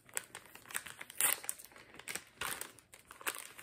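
Paper wrapping on an advent calendar gift is torn open by hand, giving a run of close, crisp crinkling and rustling bursts in an irregular rhythm, loud and alone without talk.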